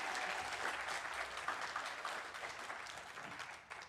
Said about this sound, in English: Please give yourselves a round of applause and our panelists.